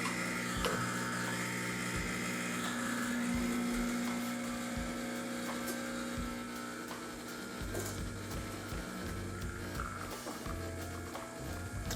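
CafeSing Orca hand grinder grinding an 18 gram dose of coffee, a steady close crunching, rasping churn with irregular clicks, continuous throughout.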